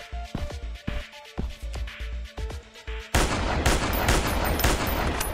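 Gunfire in the Dinosaur Hunter Africa video game: a rapid series of sharp, punchy shots with short gaps, then a dense sustained burst of louder, continuous fire at close range.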